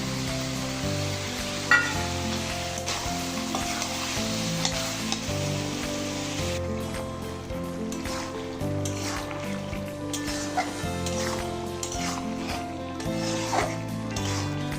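Beef curry, cooked with tomato and a few green chillies, sizzles loudly and continuously in a pan with stirring scrapes, heard close over a sustained tonal background with no talk.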